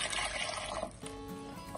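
A yogurt and gram flour mixture pours into a cooking pot for Lahori kadhi pakora, making a steady liquid gush and trickle for about a second before it eases into quieter dribbling with faint tones.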